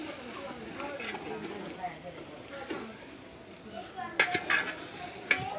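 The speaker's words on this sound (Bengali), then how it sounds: "দেখেন আমার মাংস রান্না।" Meat cooking in a pot, stirred with a utensil that scrapes and clinks against the metal over a low sizzle, with a few sharper knocks near the end and a voice speaking over it.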